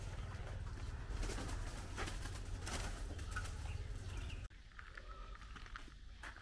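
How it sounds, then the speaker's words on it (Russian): Pigeons or doves coo on an animal farm in Chiang Mai, Thailand, soft repeated calls against a busy, noisy outdoor background. "Вон там птички летают."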